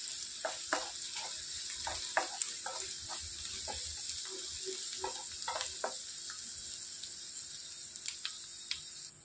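Chopped onions and garlic fry in a pan for an egg masala curry, a soft, steady sizzle running throughout with scattered clicks and brief stirring scrapes, fairly quiet and with no talking.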